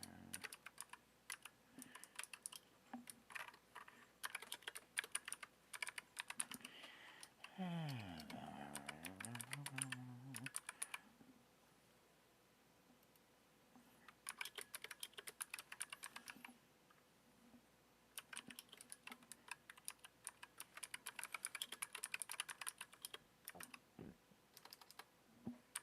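Typing on a computer keyboard during a Magic game stream, heard as long runs of rapid, close key clicks that break off for a stretch of other sounds before the steady typing resumes.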